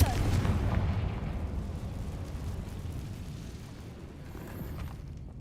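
A Confringo fire spell explodes in the video game Hogwarts Legacy: one loud booming burst at the start trails off into a long, fading rumble.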